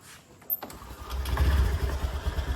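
Honda Activa scooter starting up: a brief click and crank, then the small engine catches and runs with a rising, throbbing idle close by.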